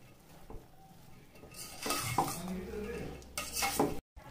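Fried boondi being stirred in sugar syrup in a pan, a few soft scraping and clinking strokes with a wet, gentle churn, close and fairly quiet.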